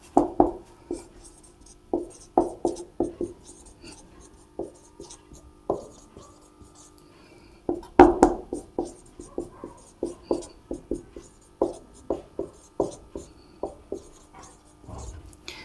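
Pen or chalk strokes writing math formulas by hand, a run of short scratchy taps and scrapes in irregular bursts, close and fairly loud, with no talking.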